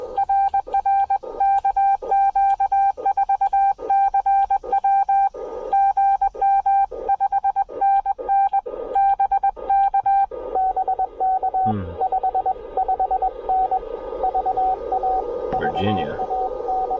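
Morse code CW tones keyed on a Ten Tec radio at a roadside Parks on the Air activation at Chickamauga Military Park, a steady run of loud on-off beeps with brief breaks, some background noise and a short voice near the end.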